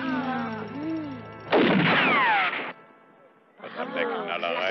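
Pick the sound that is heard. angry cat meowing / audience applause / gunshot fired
gunshot fired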